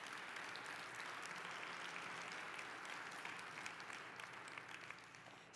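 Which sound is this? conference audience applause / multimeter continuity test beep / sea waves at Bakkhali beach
conference audience applause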